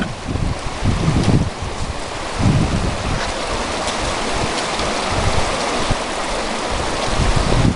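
A mountain creek on a hike toward Boulder Lake rushes loudly and continuously, a steady broad wash of flowing water with no one speaking.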